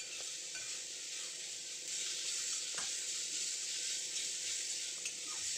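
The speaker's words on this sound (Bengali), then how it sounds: "আলুটাকে একটু নাড়িয়ে চাড়িয়ে ভেজে নিচ্ছি।" Potatoes fry with panch phoron spices in a pan. A steady close sizzle runs throughout, broken by a few soft scrapes as they are stirred.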